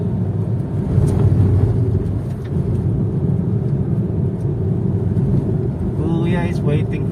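A Honda Brio RS is driven on a mountain climb road, a steady close engine and road rumble throughout, with a brief higher mechanical sound near the end and some talk in the cabin.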